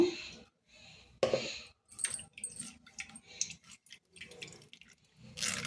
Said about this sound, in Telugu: ఇలా ఫిల్టర్ జాలీ తీసుకుని దీంట్లోంచి ఫిల్టర్ చేసుకుంటున్నాను నేను